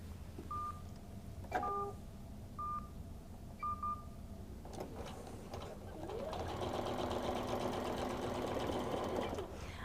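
A computerized QuiltMotion X quilting machine stitches a quilt, starting with a few brief electronic beeps and then settling into a steady, close, continuous mechanical whir of rapid stitching for the last few seconds.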